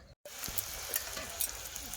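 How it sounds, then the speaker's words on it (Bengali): Steady crackling sizzle of eggplant frying in hot oil, close and continuous after a brief silent gap at the start, with small clinks of stirring. "এই যে বেগুন ভাজা হচ্ছে।"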